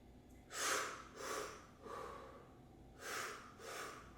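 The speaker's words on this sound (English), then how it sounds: "So you're going to be breathing like this while laying down." Forceful breathwork breathing done lying down, each strong, sharp inhale followed by a loose, dropped exhale, five breath bursts in an even rhythm, close and clear with no talking.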